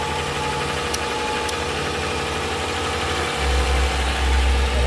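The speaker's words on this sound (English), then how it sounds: "that alternator is nice and quiet now" A quiet alternator spins on a test bench with a steady, even mechanical hum, and a deeper drive rumble swells in toward the end.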